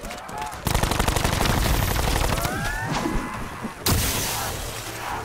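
Rapid bursts of upgraded pack-a-punch pistol fire in Call of Duty Black Ops 4 multiplayer, loud and close, with dense repeated shots nearly filling the stretch and a brief gap before a final volley.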